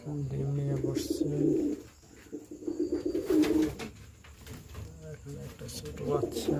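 Domestic pigeons coo near a nest where a young bird sits on eggs, with low repeated coos in bursts across most of the clip, close and fairly clear, while someone talks over them.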